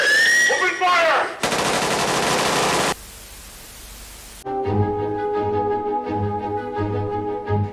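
Video game machine gun fire roars in a dense, continuous burst, cuts off into a brief near-silence, and is then followed by tonal game music.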